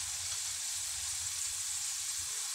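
Marinated chicken with garlic shallow-frying in hot oil, a dense, even sizzle that holds steady and close throughout.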